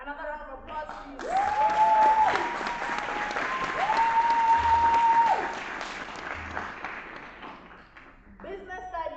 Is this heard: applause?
yes